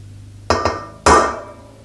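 Metal tool tapping a small dimple into the wheel hub of a 1974 Harley-Davidson XLCH motorcycle: three sharp, close metallic strikes, two quick ones then a louder one, each ringing briefly in a quiet space.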